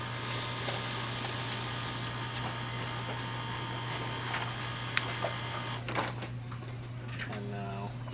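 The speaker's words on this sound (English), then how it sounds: "just standard print dialog coming out of a LaserJet printer" An HP LaserJet printer prints a document with a steady mechanical whir and an even electrical hum that runs for the whole stretch. A few faint clicks and shifts come near the end.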